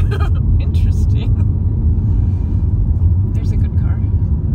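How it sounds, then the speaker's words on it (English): A car rumbles past near Tunnelton Tunnel, a heavy low-pitched roar holding steady for several seconds while people talk close by. "There's a good car."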